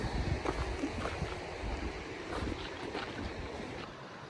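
A river runs beside a mountain trail in the Sierras, giving a steady close rush of flowing water with some wind mixed in and no talking over it.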